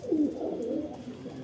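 Close, low cooing from pigeons, including one that returned after going missing for a month, rolls on without pause in a brief, dense burst.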